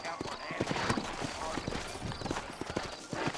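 Horses' hooves clip-clop in a steady, uneven rhythm in the Red Dead Redemption video game, mixed with other game noise and a voice speaking over them.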